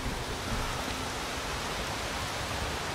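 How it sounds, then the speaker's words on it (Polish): Rain pours steadily in The Witcher 3 video game, a dense, even hiss of falling drops that fills the short stretch without a break and with no talk over it. "Czemu tutaj jest śnieg, a tu mi deszcz pada?"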